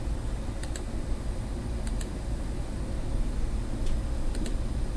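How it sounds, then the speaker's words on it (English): Mouse clicks in quilt design software, heard as a few short, sharp double clicks spaced a second or so apart over a steady background hiss. "I just click on wherever I want blue"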